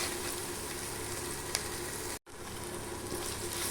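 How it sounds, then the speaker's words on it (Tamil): Ginger garlic paste sizzles in a pan for a village-style country chicken curry, a steady, close crackling fry broken by one brief silent gap and a faint stirring clink. "இந்த இஞ்சி பூண்டு வந்து நல்லா இஞ்சி பூண்டு பேஸ்ட் வந்து நல்லா வதங்கி வரட்டும்"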